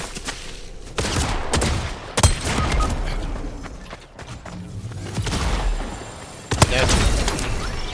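Video game gunfire in a shooter match, a string of rapid bursts and sharp cracks with a few heavier booms, loud and close, with a person talking over parts of it.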